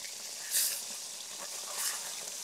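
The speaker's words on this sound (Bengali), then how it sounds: "এবার তেলে মাছগুলো ভেজে নিছে।" Fish frying in oil makes a soft, steady hiss and sizzle, fairly faint, with two brief sharper spatters flaring up over the constant crackle.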